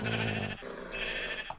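A sheep bleats in the Minecraft video game, one loud drawn-out bleat followed by a shorter second cry, heard alone with no talk.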